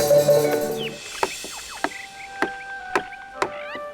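A signboard post is hammered into the ground with five sharp, evenly spaced blows about half a second apart, each a crisp impact over a soft, steady tonal background.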